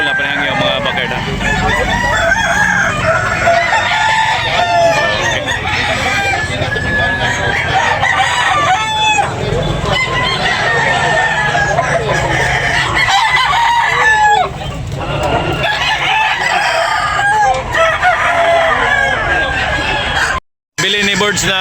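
Roosters crow repeatedly at a busy chicken market in Tabuk, overlapping with clucking and crowd chatter, loud and continuous with several birds calling at once.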